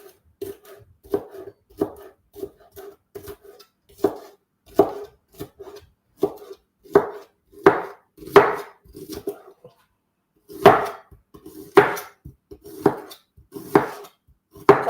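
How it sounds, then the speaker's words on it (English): Knife chopping a spring onion on a board: a long run of sharp, close taps in an uneven rhythm, sparse at first and then growing louder and more forceful, with a brief pause near the middle. No voices are heard. "I'm cutting up a spring onion"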